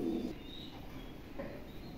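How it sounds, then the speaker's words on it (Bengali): Mundi pigeons with eight-feather tails coo in a low, soft burst at the start, then fainter murmurs over steady background noise. "এটা হচ্ছে আপনার 8 খিলের কবুতর"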